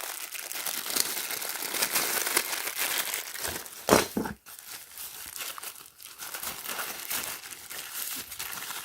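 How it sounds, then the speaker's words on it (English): Bubble wrap packaging from a wireless alarm kit handled close up, continuous crinkling and crackling for several seconds with a louder crunch midway. "So you got this bubble wrap."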